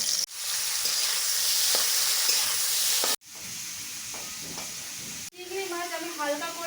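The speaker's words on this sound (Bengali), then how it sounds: "তেল গরম হয়ে গেছে মাছগুলোকে আমি হালকা করে ভেজে নেবো" Prawns frying lightly in hot oil in a wok, a steady loud sizzle with brief cuts between takes, and a faint tonal whine near the end.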